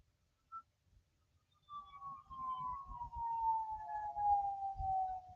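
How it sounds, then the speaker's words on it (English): A siren wails in the distance, its tone sliding slowly downward, over a low rumbling background that grows steadier partway through. "those sirens do not sound right, and that sounds concerning"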